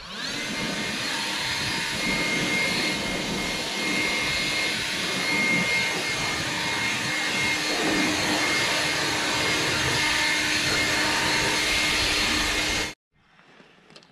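Leaf blower running steadily at close range, clearing grass clippings and leaves off a riding mower deck, a continuous loud whooshing roar that cuts off abruptly near the end.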